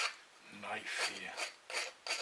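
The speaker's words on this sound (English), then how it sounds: "It is a little hard to deburr without the right tools, but I only have got this" A knife deburrs the edge of a metal part in a few slow scraping strokes, each a soft close rasp separated by brief gaps, fairly quiet and without talking.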